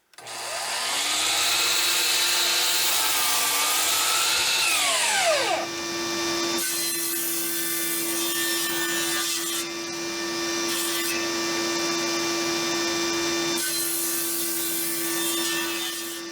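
A power saw cuts a wooden piece for a speaker stand, first with a loud whine that shifts in pitch as the blade bites, then settles into a steady hum as passes start and stop. The cutting is close and dominant.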